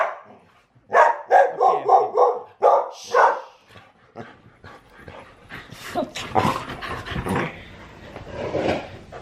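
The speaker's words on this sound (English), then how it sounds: "This is Aria, my friend's dog." A dog close by lets out a rapid run of barks followed by whining and whimpering yips, the sounds loud and uneven over about nine seconds.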